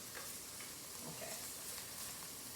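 Sliced onions sizzle and fry in a pan on high heat, a steady soft crackle and hiss with faint stirring scrapes, close and alone with no talk.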